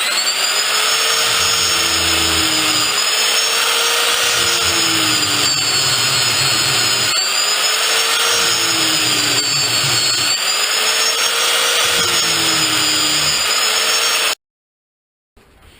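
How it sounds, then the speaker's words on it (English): A power tool grinds down the rivet on a dirt bike's motorcycle chain link, a loud, steady high-pitched whine with a rhythmic rise and fall as the grinder is worked, running continuously before cutting off abruptly near the end. "Just grind it down."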